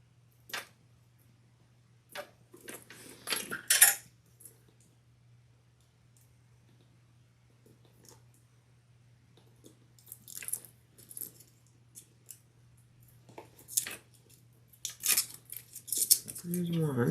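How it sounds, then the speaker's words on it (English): Plastic wrap is peeled off the zipper pulls of a sling bag, making faint scattered crinkles and small clicks of the metal pulls in a quiet room, with long gaps between bursts. "Let me take off this plastic on my zipper pulls"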